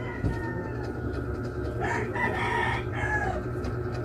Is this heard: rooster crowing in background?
yes